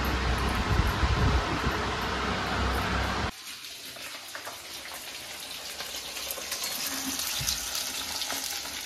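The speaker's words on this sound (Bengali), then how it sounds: "এই হচ্ছে আমাদের আলুর দম, আলু ভাজা চলছে।" Potato pieces frying for aloo dum fill the clip with a continuous broadband hiss that drops in level partway through and then carries on steadily.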